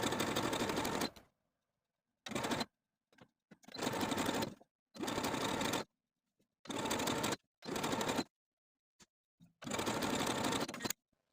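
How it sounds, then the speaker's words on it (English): A sewing machine or cover stitch runs along the raw edge of sheer stretch mesh fabric in loud, steady bursts, about seven runs with short pauses between them and no talking. "we're going to take it to our sewing machine or cover stitch and sew close to that raw edge all the way around"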